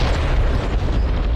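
A 1,000-pound conventional missile warhead detonates in the DCS World combat game, a loud, sustained, rumbling blast that fills the whole moment with dense low roar.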